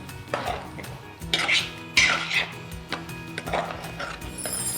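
Cooked cauliflower, potato and green peas are stirred together in a pan, with scattered clinks and scrapes of a spoon against the pan over several seconds, fairly close with quiet background.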